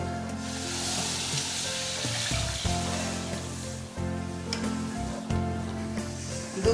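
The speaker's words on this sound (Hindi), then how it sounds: "अब हम दूध डालेंगे।" Milk poured into a hot kadai hisses and sizzles steadily for several seconds, a continuous close, moderately loud frying sound with faint stirring and clatter.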